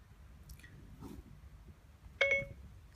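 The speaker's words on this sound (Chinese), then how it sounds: "正在拨打13581887557" A phone places a call through the Siri voice assistant, with one short, clear dialing tone near the end of a quiet, faintly crackling stretch.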